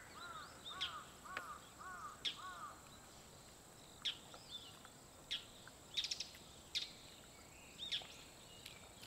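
Outdoor birds give scattered faint calls, including a few harsh crow-like caws, with short sharp chirps recurring every second or so over a soft, steady insect hum.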